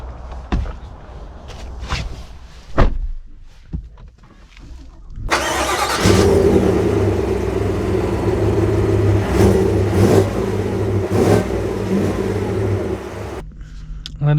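A 2025 Chevy Tahoe High Country pulls away and accelerates, its engine note rising into a steady, loud drone after a few seconds of quieter cabin shuffling and speech.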